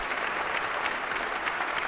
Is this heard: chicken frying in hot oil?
no